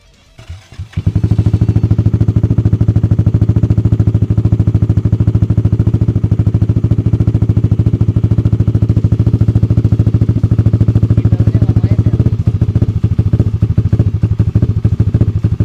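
A Yamaha NMAX scooter with an aftermarket exhaust fires up and idles with a deep, loud, throbbing exhaust burble in a housing estate, held steady for a long stretch before easing slightly near the end.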